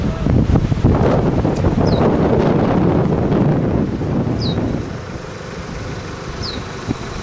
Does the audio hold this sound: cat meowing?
no